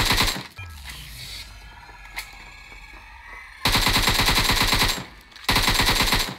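Gunfire in the PUBG Mobile game: after an opening burst, a quieter lull with a single shot, then two long, loud, rapid automatic bursts separated by a brief pause, no talk.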